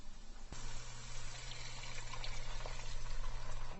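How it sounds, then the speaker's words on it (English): Water pouring steadily over a bouillon cube in a pot to make broth for minestrone soup, a continuous close gushing flow that starts abruptly and grows slightly louder. "we're going to add some water to that"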